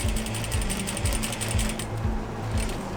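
A sewing machine stitches a plaid fabric face mask, running in a continuous, close mechanical chatter with a fast, even needle rhythm that briefly eases near the end.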